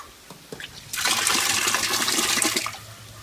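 Water gushes from a household supply pipe at an outdoor bathing spot, a loud, close rush that starts abruptly, runs for about two seconds, then cuts back to a faint trickle.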